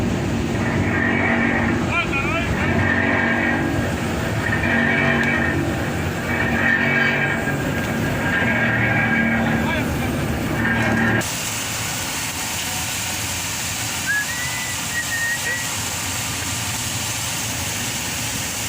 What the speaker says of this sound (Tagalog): naka-made pass na po yung locomotive train